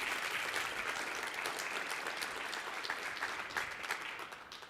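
Applause from a conference audience at a hospitality industry event, steady dense clapping throughout, moderately distant and even, fading slightly at the end with no talk over it.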